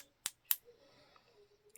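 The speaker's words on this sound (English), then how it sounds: "somebody told me I needed to knock it over a harder surface, like maybe my scissors" A paint bottle knocked twice against a pair of scissors, giving two sharp, close, bright clacks about a quarter second apart, followed by faint rustling and a small tap.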